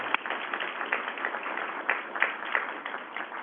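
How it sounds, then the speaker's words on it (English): A conference audience claps in a steady, dense round of applause, with a few sharper claps standing out near the end; the sound stays moderately loud and even, with no talking over it. "maybe if we can give him one more round of applause"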